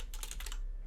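Rapid keystrokes on a computer keyboard, a quick burst of several close, crisp clicks in a quiet room, with no voices.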